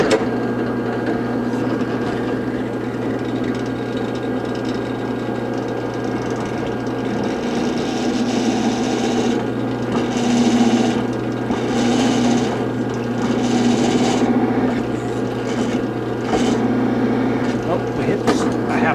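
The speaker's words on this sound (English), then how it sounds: "back at the drill press we go. Put a couple more holes in." A drill press hums steadily with a motor whine, then grinds in several bursts as the bit bores holes into MDF. A voice talks intermittently.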